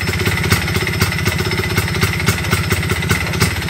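An MZ ETZ 301 motorcycle engine runs steadily nearby, a loud, continuous two-stroke chug with a fast, even pulsing beat and metallic clatter, heard alone without voices.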